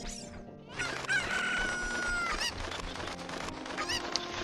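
Cucco chicken crowing in the video game Zelda Ocarina of Time, a loud drawn-out cock-a-doodle-doo amid busy game music and effects, running continuously without talk.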